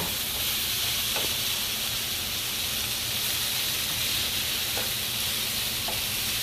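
Potatoes and onions fry in a pan with a loud, steady sizzle and hiss that runs unbroken throughout, close up, with no one talking.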